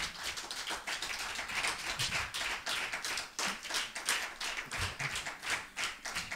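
A church congregation applauding in steady, dense clapping that swells in waves, moderately loud and close, with no talk over it.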